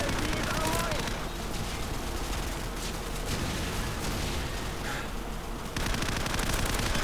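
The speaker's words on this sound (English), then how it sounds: "I saw a gunshot coming from that back area." Bursts of video game gunfire crackle in rapid, repeated volleys, loud and sustained, mixed with a dense noisy backdrop of battle sounds.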